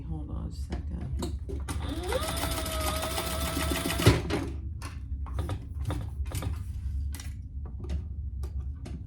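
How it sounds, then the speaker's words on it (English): A sewing machine basting a fabric strap runs in one steady mechanical burst of about two seconds, with scattered clicks and handling noises before and after. "I'm gonna just baste this together so it doesn't move around on me."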